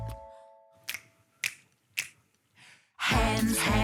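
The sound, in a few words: finger snapping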